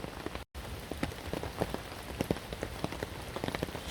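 Torrential rain pounds a tarp shelter in a field during a bushcraft camp, a dense, steady drumming with sharper drops spattering throughout, close and continuous with a brief dropout near the start.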